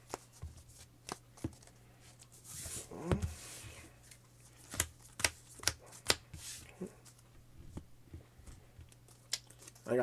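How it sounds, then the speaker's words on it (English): Someone shuffles a sleeved trading card game deck built around a Nirvana dragon. The cards make quiet riffling and crisp snapping clicks at an uneven rhythm, heard close and fairly soft with no talking. "So we're going to shuffle this up, and then we're going to do a test hand"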